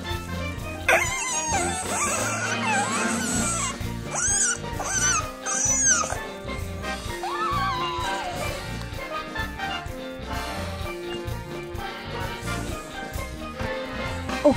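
A cartoonish dog yips and whimpers in short high rising squeals over a busy music bed with low thumping, the cries bunched early then fading into the mix.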